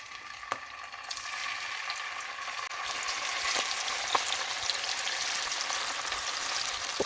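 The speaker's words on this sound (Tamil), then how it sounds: "நாங்கள் இந்த பிரட்டி வச்சுருக்கிற இந்த ட்ரோஃபுவை நான் இந்த எண்ணெய்க்கு போடுறேன்" Tofu dropped into hot oil for a tofu curry, a quiet sizzle that swells as pieces go in and then holds as a steady hiss with occasional light clicks, no talking.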